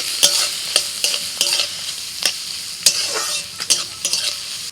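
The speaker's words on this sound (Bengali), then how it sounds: "আদা কুচিটা একটু ভেজে নিয়ে দিয়ে দিচ্ছি লঙ্কা কুচি, গাজর কুচি, সাথে দিয়ে দিচ্ছি পেঁয়াজ আর ক্যাপসিকাম" Chopped ginger, chili, carrot, onion and capsicum sizzle in a pan while a spatula stirs and scrapes with sharp, irregular knocks, close and alone without talk.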